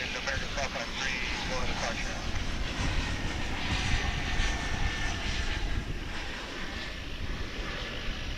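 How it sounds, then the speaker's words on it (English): The turboprop engine of a Cessna 208B Super Cargo Master drones steadily at an airport, a continuous broadband roar that stays even and moderately loud the whole time. "What you're looking at there is a Cessna 208B Super Cargo Master."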